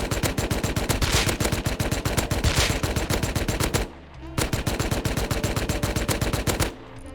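Tommy gun fire in Rust: two long, loud bursts of rapid automatic shots at a steady rhythm, separated by a brief pause, with no voice present.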